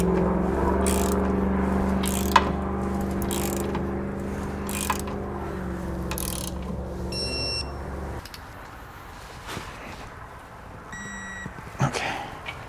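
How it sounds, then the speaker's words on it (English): A torque wrench ratchets in short repeated clicks while tightening Roadmaster Direct-Connect base plate hardware on a 2018 GMC Sierra 1500, with a steady mechanical hum underneath and a few faint beeps later. "We can now go back and torque our hardware to the specifications outlined in our instructions"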